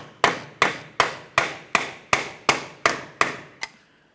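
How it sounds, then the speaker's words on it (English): Hammer and punch tapping a Honda Civic front axle free from its wheel bearing hub, ten sharp metallic taps at an even, brisk rhythm, close and clear, the last one lighter, with no voices. "A couple light taps with a hammer and punch for this."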